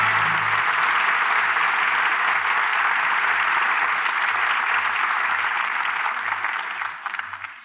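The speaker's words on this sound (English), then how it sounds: "here are our stars who certainly deserve your applause" Sustained studio audience applause closing a live radio drama broadcast, a dense, steady clatter of many hands clapping at full volume for several seconds before tapering off at the end, with a low hum of music or room noise beneath.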